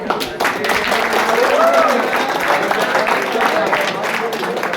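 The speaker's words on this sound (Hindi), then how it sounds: "बढ़िया, तालियां हो जाए।" College students at an NSS camp break into sustained applause filling a room, with voices mixed through the clapping.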